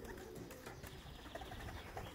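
Male breeding pigeon from Krakow cooing softly in a loft, a low repeated coo over quiet room noise.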